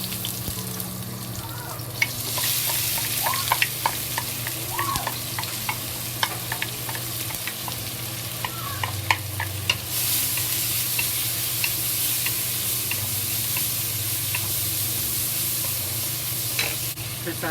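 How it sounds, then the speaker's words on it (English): Fish fries in hot vegetable oil in a wok, a steady sizzle that swells louder partway through, broken by scattered sharp pops and spatula scrapes close by. "When the oil is hot, we add the fish to it."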